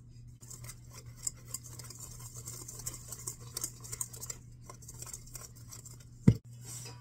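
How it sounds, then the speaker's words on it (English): Dry ingredients with nutmeg and salt are whisked for eggnog bread, a faint, close scratchy stirring that runs steadily over a low hum and ends with one sharp knock near the end. "And then we're going to whisk this together."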